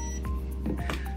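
A few short electronic beeps from a Wine Enthusiast automatic vacuum wine preserver pumping air from a bottle, over a steady low motor hum, close by.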